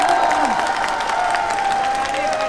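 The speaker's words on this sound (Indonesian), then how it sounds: "Tepuk tangan dulu dong." An audience at a stage show at YouTube FanFest 2016 claps and cheers in a short, dense burst, a continuous crowd wash with a tonal note running through it.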